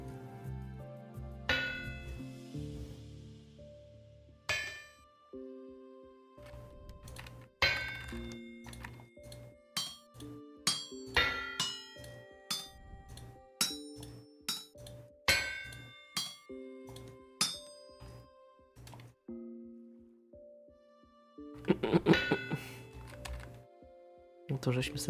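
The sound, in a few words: drop hammer forging iron in Vintage Story video game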